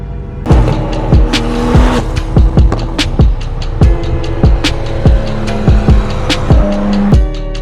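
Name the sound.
800HP Nissan R35 GT-R launching off the brake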